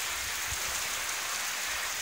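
Heavy typhoon rain pours down outdoors in China, a steady broadband hiss that stays even and fairly faint for the whole stretch, with low rumbling underneath and no voices.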